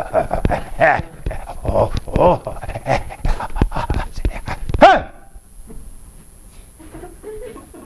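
A dog barks repeatedly in quick, loud bursts with panting and whimpering between them, then the barking cuts off abruptly and faint background sound follows.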